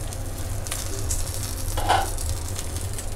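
Stuffed green chillies roast in a pan with a continuous close sizzle and a brief scraping stir near the middle.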